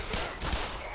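Shotgun blasts from the Black Mesa video game, a quick burst of loud cracking reports over about a second with no talk.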